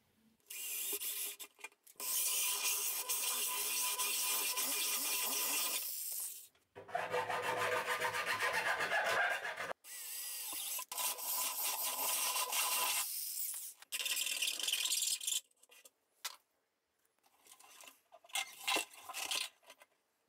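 A hand file rasps back and forth at a drilled hole in a CNC router controller case, coming as close, loud scraping bursts of several seconds separated by brief pauses, the last strokes shorter and more broken.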